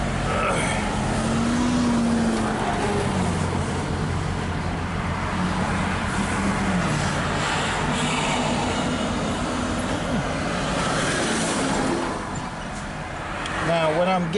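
A Chevy Silverado pickup with a transmission that is running hot and slipping drives along, its road and engine noise a steady, moderate rumble from inside the cab, with some tonal whine and a brief dip near the end.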